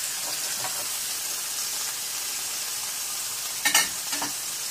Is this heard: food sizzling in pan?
yes